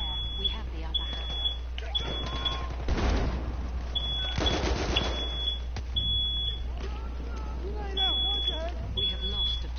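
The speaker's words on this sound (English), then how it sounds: "Oh, I got an alarm going off in my house, guys." A home smoke alarm beeps in repeated high piercing bursts inside a house, under loud gunfire and explosions from a Battlefield 1 match and people talking.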